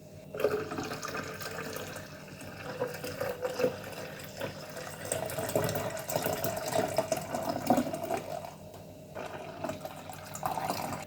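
Homemade tamarind drink strained and poured from one vessel into another, a steady, fairly soft stream of trickling liquid lasting throughout with no voices.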